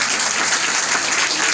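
Steady audience applause fills the whole stretch, many hands clapping densely and evenly at a fairly loud level, with no voice on top.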